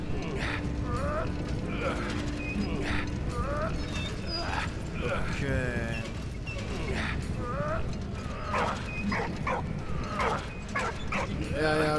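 A dog in the World War I game Valiant Hearts barks and whimpers in short yips and whines, repeating through the stretch over game sounds and clopping, while someone talks over it in German.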